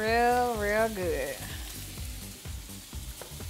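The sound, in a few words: cheese sizzling in a pan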